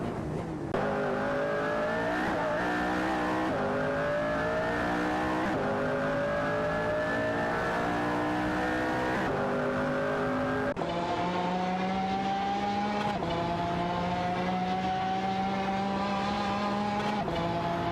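Racing cars in an AI video game race, among them a Bugatti Veyron and a Zenvo, drone continuously with engine pitch rising and dropping as gears shift, loud and sustained, with no voices.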